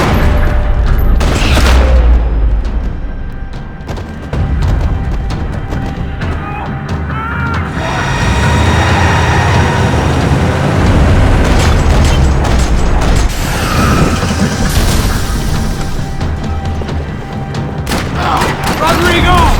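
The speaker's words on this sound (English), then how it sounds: "Another parking lot rattling with gunfire." Gunfire and explosions fill a parking lot shootout in the Max Payne 3 video game, with loud bursts of shots, booming impacts and mechanical clatter layered over game sounds and music.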